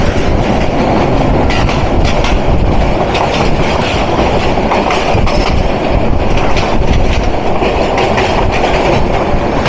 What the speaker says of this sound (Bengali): এখন আমাদের সাথে ডাবল লাইনে ক্রসিং হবে ঢাকা থেকে সিলেট অভিমুখী আন্তনগর পারাবত এক্সপ্রেস ট্রেন নাম্বার 709 এর সাথে।